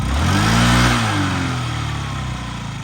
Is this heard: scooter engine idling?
yes